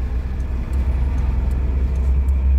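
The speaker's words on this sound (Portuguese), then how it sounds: "Espera aí, tem um caminhão vindo." A truck approaches on a debris-strewn city street, its engine a steady deep rumble that holds loud and close throughout, with no talking.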